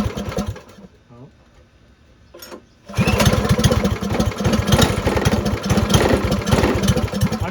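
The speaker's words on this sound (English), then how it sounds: "I'm just gonna let it run really at a really low idle here for a second to let it get the oil moved around." A vintage Tony Kart go-kart engine starts after a few faint sputters and quiet moments, then runs at a loud, steady low idle with a rapid, even chugging pulse close by.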